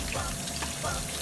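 Green bananas washed in water, giving a brief wet splashing and rubbing sound, close and continuous.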